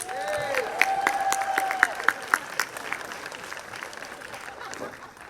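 Audience applause at a livestreamed Night in Oaxaca 2022 event: broadband clapping that swells and fades over about five seconds, with a voice over it early on and a few sharper claps standing out.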